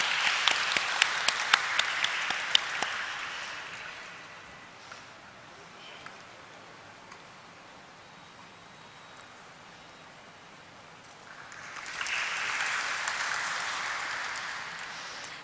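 Audience applause at a company's stock listing ceremony: a burst of crowd clapping that fades away, goes quiet for several seconds, then swells again into a second round.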